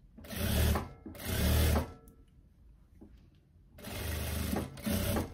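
A sewing machine stitches the pocket of a teddy coat in four short, loud bursts of rapid mechanical whirring, separated by brief pauses.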